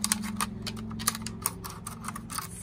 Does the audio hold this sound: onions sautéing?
no